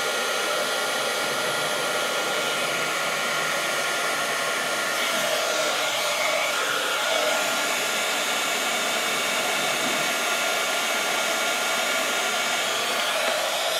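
Heat tool melting embossing powder on a handmade Christmas card, a loud, steady close blowing whoosh held for the whole stretch with no talk.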